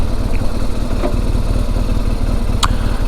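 A 2009 BMW R1200 GSA Boxer Twin motorcycle engine idling up close, a loud, steady, even pulsing throb with no voices.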